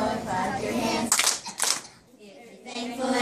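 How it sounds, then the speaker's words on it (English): Children clap their hands in rhythm during a thankfulness song, two sharp bursts of clapping standing out between stretches of sung and spoken voices, with singing resuming after. "If you're thankful when you know it, clap your hands."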